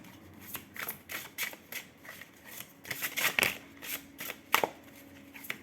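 Angel tarot cards being shuffled and drawn by hand, a quick series of crisp riffling and flicking bursts close up, irregular and fairly quiet, with no talking.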